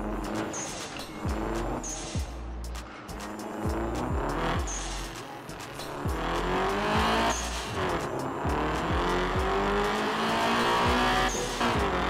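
A modified car engine in the racing game Night Runners revs hard and repeatedly, with sharp throttle blips, rising pitch sweeps and tire squeals, loud and continuous throughout.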